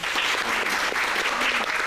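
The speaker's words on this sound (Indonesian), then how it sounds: "Tepuk tangan dong." Steady, dense applause from a studio crowd at a television studio in Surabaya, loud and continuous throughout with no pauses.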